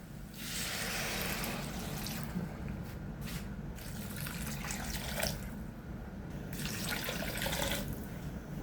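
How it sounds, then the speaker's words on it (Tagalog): Water runs steadily from a tap into a pot of pinapaitan, a Filipino beef innards stew, a continuous close splashing stream lasting several seconds, alone without talk. "Lagyan po natin ng tubig."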